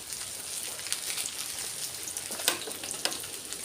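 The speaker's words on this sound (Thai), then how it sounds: "ปลาทอดนี่แหละ" Fish frying in oil, a steady close crackling sizzle with scattered sharper pops and spatters.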